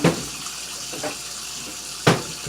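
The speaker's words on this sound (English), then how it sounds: "Take it out of the pan, or out of the package, in the package, and rinse it. It's always good to rinse the meat." Tap water running over a roast of meat as it is rinsed, a steady close hiss of flowing water broken by a couple of brief splashing bumps.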